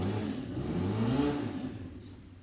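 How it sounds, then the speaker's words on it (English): A motorbike engine revs up and then fades away outside, a rising and falling whine with a low rumble, moderately distant. "Sorry if you can hear the motorbikes outside."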